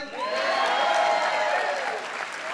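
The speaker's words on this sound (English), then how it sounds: "Why is her applause louder than mine?" Audience applause and cheering fill a live evening event, with steady sustained clapping and higher voices whooping and calling over it, loud and continuous throughout.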